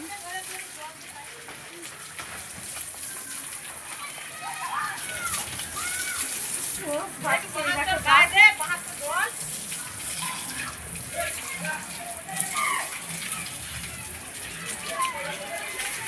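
Buffaloes being washed at a Bengali village dairy farm shed, with intermittent water splashing and pouring, louder in the middle, while people talk and children's voices and birds sound in the background.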